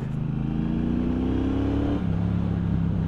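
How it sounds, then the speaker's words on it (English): A Triumph Bonneville Bobber motorcycle engine revs up in second gear, its loud, close exhaust note rising steadily in pitch, then dipping briefly before it pulls on again. "I love that noise. The noise of this bike's very addictive."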